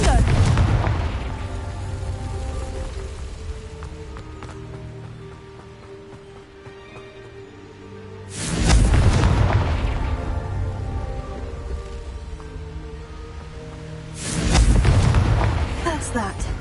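Fiery Confringo spell blasts in Hogwarts Legacy, three loud booming explosions spaced several seconds apart, each with a crackling decay and low rumbling tail, with a voice speaking in between.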